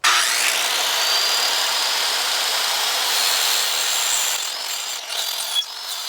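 A power tool cuts through material to make shooting targets, giving a loud, continuous high-pitched whine and grinding rasp that holds steady and then wavers briefly near the end.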